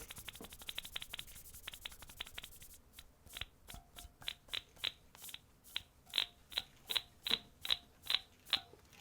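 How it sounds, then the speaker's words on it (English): A finger rubs through a screw hole in a custom OXALYS80 keyboard case, starting as a dense scratchy rustle and turning into a steady string of sharp, wet-sounding pops about twice a second, close and fairly quiet. "It sounds moist like a water drop. It's my finger running through this screw hole."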